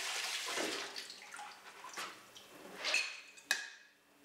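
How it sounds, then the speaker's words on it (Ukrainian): Watermelon seeds being rinsed with water, with soft intermittent splashing and trickling in bursts, fairly quiet with gaps between, ending in a brief sharp clink. "Потім промийте насіння водою."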